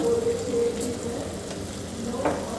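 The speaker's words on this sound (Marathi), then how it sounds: "इथे मी हे बीन्स घालून घेते" Boiled white beans go into a hot pan and fry with a steady, close sizzle. Faint stirring scrapes sound over it for a few seconds.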